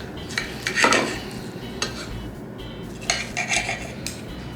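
A small steak knife cuts into a tender prepared Freshly meal, scraping and clinking against the plate in several uneven strokes close to the mic.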